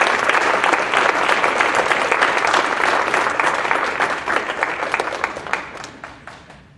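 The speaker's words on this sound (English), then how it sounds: "all of our honorees deserve another round of applause" Awards ceremony audience at a university writing program event gives sustained applause, dense steady clapping from many hands throughout, close and loud, gradually thinning toward the end.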